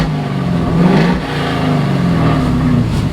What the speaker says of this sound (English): I can give it a rev.